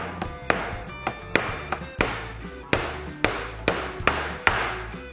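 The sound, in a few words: hammering the second nail into door frame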